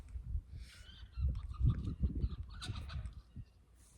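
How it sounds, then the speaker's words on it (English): Chickens squawking and honking in short, harsh bursts at a job site, the calls fairly close and repeated over several seconds against wind. "Dang heckin' chickens."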